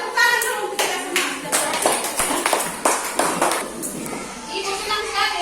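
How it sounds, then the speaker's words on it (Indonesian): A school class clapping their hands together in a classroom, a burst of many claps in an irregular rhythm for several seconds, close and fairly loud, with children's voices mixed in. "Kita tepuk tangan dulu untuk kita semua."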